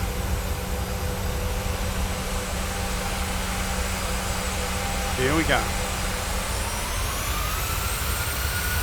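Steady jet engine roar with a rising whine as a PMDG 737-900's engines spool up in a flight simulator game, a brief spoken phrase partway through.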